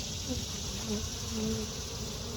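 Honeybees buzz around an open hive during an inspection, a dense, steady drone of many insects close by, with individual bees passing and no break in the hum.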